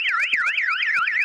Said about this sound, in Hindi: जैसे ही कोई अलार्म बजा, कोई फॉल्स अलार्म बजेगा